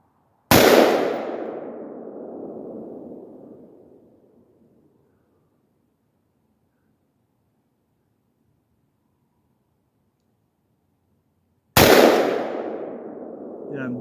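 Two sharp, loud AR-15 rifle shots fired one-handed at an outdoor range, each a crack followed by a long decaying echo, spaced about eleven seconds apart with silence between.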